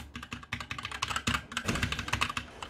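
Rapid keystrokes on a Magicforce Smart 1 budget gaming keyboard, a dense, uneven clatter of clicks close up with no voices.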